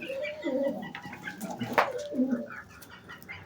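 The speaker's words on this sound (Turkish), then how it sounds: "güvercinlerimiz tam buraya yuva yapmış." Soft, low coos of pigeons at their nest come in a few rounded phrases close by, with a brief sharper chirp in the middle and light background noise.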